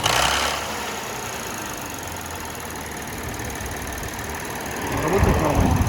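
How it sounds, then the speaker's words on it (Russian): A Lexus IS engine turns over and settles into a steady idle, a continuous mid-pitched hum heard up close, with a brief burst at the start and a louder swell near the end; no speech. "ну мотор чисто визуально, ничего здесь не поймешь. Надо заводить, смотреть, слушать, как работает."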